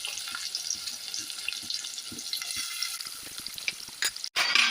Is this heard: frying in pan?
yes